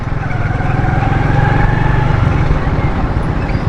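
A worn, dirty motorcycle is ridden with a steady, close, pulsing engine drone under continuous road noise, with someone talking over it.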